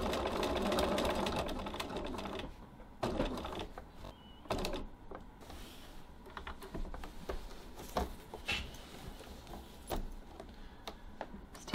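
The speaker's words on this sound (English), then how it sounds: "Stitching back up on top of my previous top stitching." A sewing machine runs in quick bursts of rapid stitching as it top-stitches over earlier top stitching. The bursts are separated by short pauses and handling clicks, fairly quiet and close.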